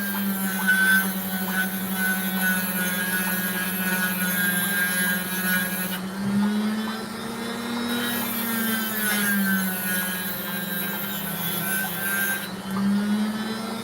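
Sandpaper wheels on a rotary tool smooth the edges of a cracked piece, giving a steady, loud, close grinding whine that shifts pitch slightly as pressure changes, with no speech.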